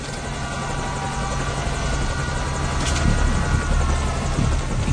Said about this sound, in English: the enemy has spotted our helicopter, so let's defeat them before we get shot down.